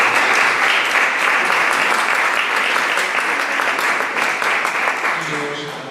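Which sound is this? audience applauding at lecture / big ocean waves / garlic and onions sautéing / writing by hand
audience applauding at lecture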